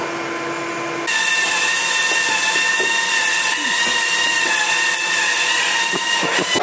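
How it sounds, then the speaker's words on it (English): A power drill whines steadily and loudly after a brief quieter start, boring holes in a roof rack for a Ford Ranger Raptor, its high motor tone running continuously with faint knocks underneath. "just drilling the holes in this"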